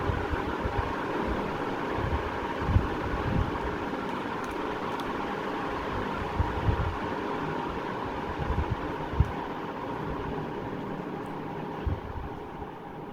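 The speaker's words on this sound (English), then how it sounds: "So yeah, this is a very powerful fan." Atomberg Studio+ BLDC ceiling fan with a powerful 32-watt motor running steadily, a continuous broadband whoosh of moving air with a low rumble, close and even throughout with a few faint clicks.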